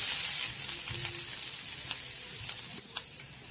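Finely chopped ginger and garlic sizzle in hot oil in a pan, a close bright frying hiss that slowly settles, with a few light utensil clicks near the end and no talking.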